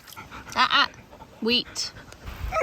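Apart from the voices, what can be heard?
dog Jack in a car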